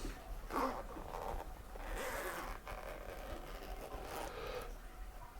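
Someone opens the zipper of a small pouch, a close, quiet series of scratchy zipping strokes in short bursts over a few seconds.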